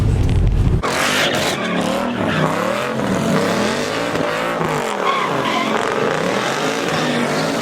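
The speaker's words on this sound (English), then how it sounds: "we got the mini bike and a massive burnout" A mini bike doing a burnout at a big Los Angeles summer car meet: continuous engine whine and tire squeal blended with crowd noise, loud and sustained after a brief burst at the start.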